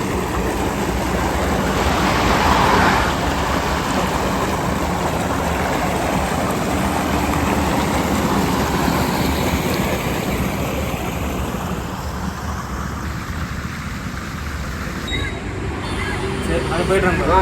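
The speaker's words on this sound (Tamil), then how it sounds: "தண்ணி எப்படி போயிட்டுருக்கு பாருங்கள்" Water gushes out of a broken pond beside the road to the Namakkal bus stand, a loud, steady rush of churning flow that carries on unbroken throughout.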